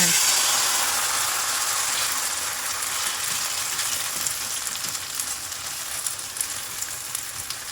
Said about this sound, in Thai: น้ำมันร้อนแล้วใส่ทุกอย่างลงไปเลยค่ะ